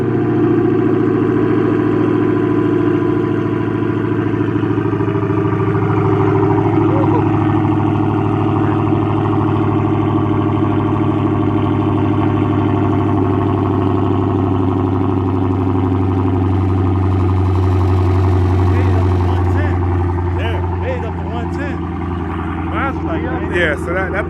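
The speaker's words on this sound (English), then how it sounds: "this is a cold start with mid muff delete on a Hellcat" Dodge Charger Hellcat with a mid muffler delete on a cold start, a loud steady deep exhaust drone with a brief rise in pitch near the end, carrying on under people talking.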